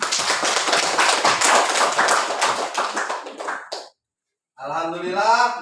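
A class claps hands together, a dense burst of many quick, sharp claps lasting several seconds, then a short silence before voices break in.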